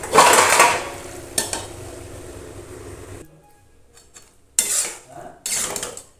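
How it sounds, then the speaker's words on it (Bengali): Ash gourd being stirred in a cooking pot, with metallic scraping and clinking of a utensil against the pan in short bursts, pausing briefly before resuming. "এবারে আমি নাড়াচাড়া করে"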